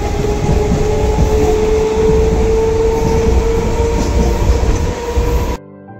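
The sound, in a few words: local passenger train running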